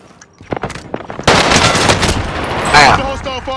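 Loud rapid automatic gunfire in a Call of Duty match on Rebirth Island: a few scattered shots first, then a sustained close burst of fire lasting over two seconds with a brief voice in the game audio.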